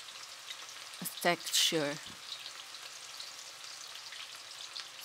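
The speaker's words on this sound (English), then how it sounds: "you can just fry the onions until it's just a little bit brown" Onions fry in a pan with a soft, continuous sizzle close by, briefly overlaid by a short spoken phrase before the frying carries on alone.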